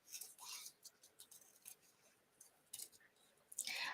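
Scissors snip through paper while a card is being made at a craft table, giving faint, sparse cuts near the start and a louder crisp snipping at the end, with no talking.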